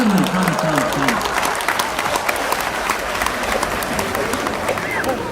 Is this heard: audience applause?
yes